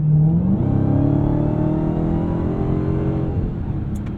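A Dodge Challenger Hellcat Black Ghost, an 807 HP car, revs hard under throttle, its engine note rising sharply then holding a loud, steady roar that slowly eases off, close up with no talk.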